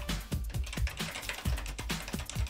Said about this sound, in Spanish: Ah, el teclado también. Clic, clic, clic.